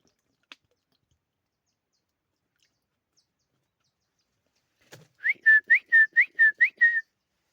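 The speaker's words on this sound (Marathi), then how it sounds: "इथे नाही सवय शिटीची तिकडे शिटी मारली" A person whistles a quick run of about eight short, bright notes near the end, outdoors at a water hole while watering animals; before that there is near silence broken only by a couple of faint clicks.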